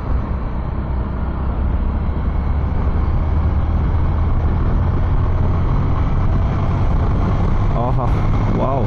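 A two-decade-old Hero Karizma motorcycle ridden hard on the road, its engine droning steadily and loudly with heavy wind rush throughout, no pauses.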